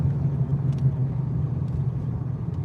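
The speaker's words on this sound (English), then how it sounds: "Here comes a car." A car drives along a city street near a corner building, a steady low road rumble and engine hum that stays fairly constant, with faint background voices.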